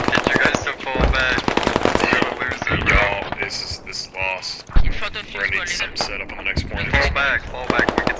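Gunfire in the tactical shooter Squad, several sharp shots popping out among constant radio chatter and voices talking over the fighting, with one heavier bang standing out midway.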